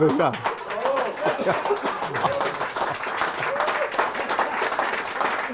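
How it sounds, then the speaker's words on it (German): Sustained applause from a crowd, dense clapping that holds steady throughout, with some voices mixed in. "Gib mal einen Applaus dafür."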